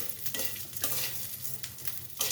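Drained rice grains are stirred and fried in a pan with salt and turmeric for a rohu fish-head dish: repeated close scraping strokes, about five, over a soft steady sizzle.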